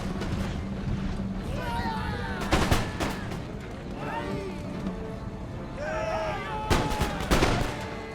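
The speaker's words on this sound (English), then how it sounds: "Gosh, it's like a firing squad." Musket volleys ring out in an Empire: Total War battle, two loud crackling bursts of massed gunfire separated by a few seconds, with someone talking over steady battlefield noise.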